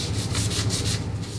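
Rust on a handle from a 1979 Toro 826 with an 8hp Briggs & Stratton engine is scrubbed with a Scotch-Brite pad, giving a quick, steady back-and-forth rasping heard up close and alone.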